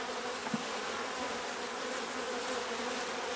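Honeybees from a split beehive buzz in a dense, continuous hum, near and steady throughout, with no voices.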